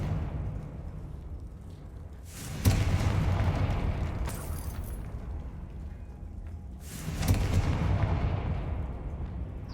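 Fiery Confringo spell blasts in the video game Hogwarts Legacy, two loud booming bursts a few seconds apart over a steady rumbling game background, each one thudding in heavily and then trailing off.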